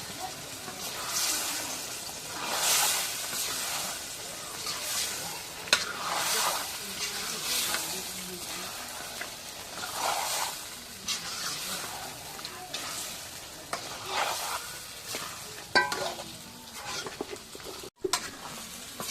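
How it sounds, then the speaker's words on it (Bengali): Meat frying in a pan sizzles steadily while a utensil stirs it, with repeated scraping strokes and occasional clatter; the sound is close and moderately loud, with brief pauses. "নাড়া দিই।"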